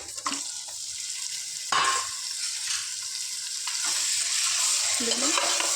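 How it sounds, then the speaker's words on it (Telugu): A kilo of chicken pieces frying with browned onions in a pan for tomato chicken curry, with a steady close sizzle and several scraping stirs of a spoon through the mix. "మంచిగా వేగనిద్దాం"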